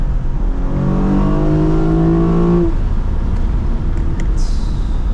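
A Lexus IS350 with a muffler delete and tune accelerates hard along backroads, its loud, raspy exhaust rising through the revs for about two and a half seconds before backing off into a steady road drone.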